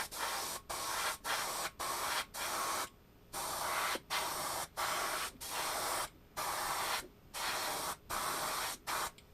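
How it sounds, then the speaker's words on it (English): Bursts of hissing aerosol primer spray, each lasting under a second, repeated in a steady on-off rhythm with brief silent gaps, close by. "You don't have to spray it on real thick"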